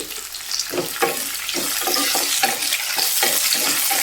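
Chopped onion pieces and curry leaves fry in a pan for suji rava upma, a loud close sizzle broken by repeated stirring scrapes, with no speech.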